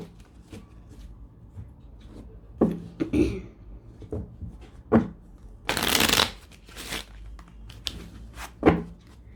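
Tarot cards shuffled by hand in quick papery bursts, the loudest riffle a sustained rush in the middle, with scattered soft taps and knocks around it and no talking.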